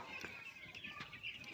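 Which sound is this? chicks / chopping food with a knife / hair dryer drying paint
chicks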